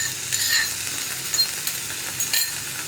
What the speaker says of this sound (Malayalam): ഈ സമയത്ത് നമുക്കിതിലേക്ക് നമ്മൾ മാരിനേറ്റ് ചെയ്ത് വെച്ചിരിക്കുന്ന മീൻ ചേർത്ത് കൊടുക്കാം.